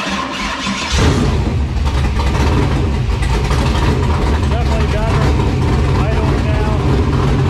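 A car engine fitted with a Holley Terminator X fuel injection system idles steadily and loudly after starting up, a low continuous rumble that runs throughout while people talk over it.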